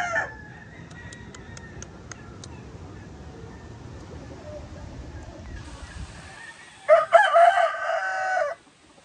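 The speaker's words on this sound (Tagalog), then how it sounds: "Yan yung mga brood stag natin na gagamitin." An asil brood stag rooster crows once, loud and close, a harsh drawn-out cock-a-doodle-doo near the end, following quieter background clucks and faint ambient noise.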